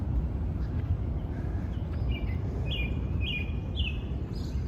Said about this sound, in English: I love the sound of birds